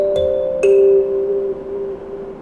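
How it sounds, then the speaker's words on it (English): Two plucked kalimba tines ring out one after another and sustain as they slowly decay. A steady air conditioner hum runs underneath. "your kalimba sound goes like this."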